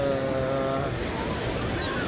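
Sea waves wash onto a clean city beach in Dagupan City on a New Year afternoon, a steady broadband roar of surf and wind that runs loud and continuous throughout, with faint voices mixed in.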